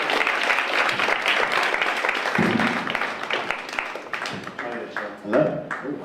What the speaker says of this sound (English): Clap for Oliver as well,